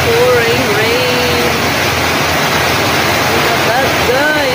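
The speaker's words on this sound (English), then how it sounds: "it is so pouring rain" Heavy pouring rain in a residential area, a loud dense unbroken roar of downpour close by, with faint voice-like tones drifting underneath.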